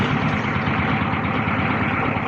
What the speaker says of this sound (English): Gonna fire the engine up?